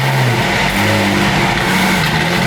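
A McLaren supercar engine, not run in a while, starts and revs, a loud, close, continuous roar with rising and falling pitch that fills the whole stretch.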